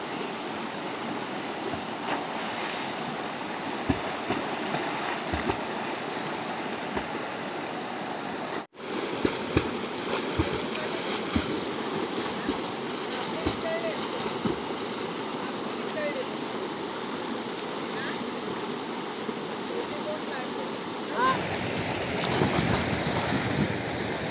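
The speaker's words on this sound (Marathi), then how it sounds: "बापरे, एवढा आहे पाणी." A stream running near Harkul village rushes and bubbles in a steady broadband wash for the whole stretch, with occasional soft knocks and a brief dropout, while people talk over it.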